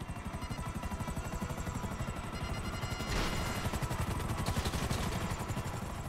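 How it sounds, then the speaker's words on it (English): Rapid rhythmic rotor chopping of a helicopter in the video game GTA 5 Online, steady and continuous, with a slight swell in loudness midway through. "They don't even have another helicopter coming in."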